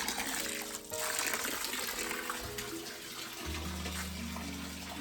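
Cold mountain spring water in Meghalaya splashes and gurgles steadily close by, a continuous loud flow filling the whole stretch.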